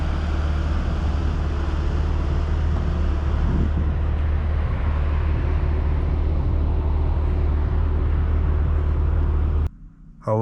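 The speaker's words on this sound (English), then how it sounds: "Today we are driving a 2018 Porsche Macan GTS on our channel." A 2018 Porsche Macan GTS on the move, with a steady, loud engine and road drone inside the cabin holding throughout before cutting out briefly near the end.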